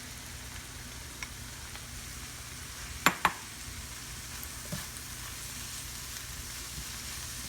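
Onions and mushrooms fry in a pan with a soft, steady sizzle like light rain, broken by two sharp metallic clacks of a utensil on the pan and a few faint taps.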